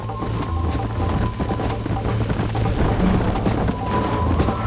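Horse hooves clip-clop at a gallop in the Western game Red Dead Redemption, a steady thudding beat under continuous game music and ambience, with a horse snort and a brief voice line mixed in.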